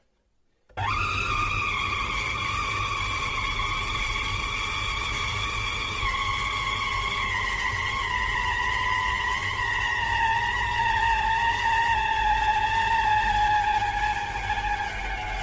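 A SOKANY SK-YM7034 electric chopper switches on abruptly and runs continuously grinding minced meat, a loud steady motor whine with strong tonal bands that drift slightly lower as it labors.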